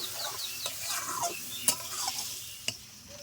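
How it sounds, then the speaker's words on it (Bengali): Spice masala with turmeric being sautéed in a pan for chicken, a steady soft sizzle with scraping stirs and a few sharp clicks of the utensil against the pan. "আস্তে আস্তে মশলাটা কষে নেব"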